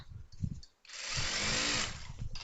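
Electric sewing machine stitching an inskirt, a brief low rumble and clicking before one sustained close whirring run of stitches that stops near the end.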